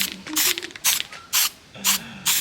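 A gal spray aerosol can hisses in five short bursts spaced about half a second apart, each with a rattling tail, as paint is sprayed onto a masked-up Nissan S13 drift car during an overfender install.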